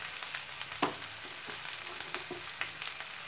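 Turmeric, Kashmiri chilli and other spices for a Rajasthani green chilli pickle sizzle in hot oil over a lowered flame, with a steady hiss broken by a few soft stirring scrapes.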